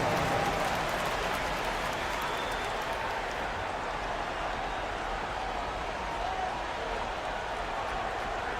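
Crowd applause in an NBA 2K25 basketball video game, a steady broadband wash of clapping and cheering held at an even level throughout.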